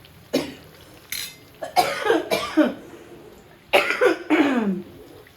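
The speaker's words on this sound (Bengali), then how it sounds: "কথা বলতে পারি না, গলায় এত সমস্যা, কথা বললেই কাশি এসে" A person coughs repeatedly: a single cough, then two clusters of harsh, raspy coughs separated by brief pauses, close and fairly loud.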